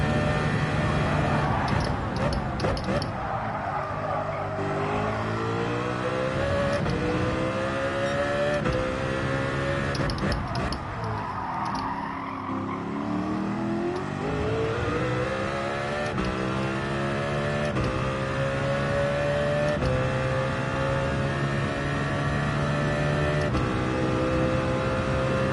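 A Northcliffe WRX engine races in Gran Turismo 7, a steady loud whine sweeping up and down through the gears as the car accelerates and brakes throughout, with no talk over it.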